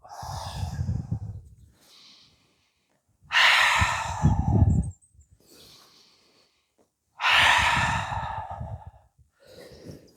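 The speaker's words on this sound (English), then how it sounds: "Breathing in, up, and breathing out." Slow, deep breaths during a qigong exercise routine, with long audible exhales through the mouth repeated in a steady rhythm, close and clear with quiet pauses between.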